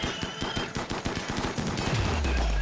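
Rapid bursts of automatic gunfire from a Rimworld colony battle, a dense run of sharp shots close together, followed by a low rumbling tail near the end.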